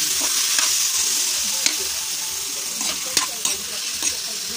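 Ground meat frying with garlic and onion for spaghetti sauce, a loud continuous sizzle broken by sharp scrapes and knocks of a spoon against the pan, close up, no talking.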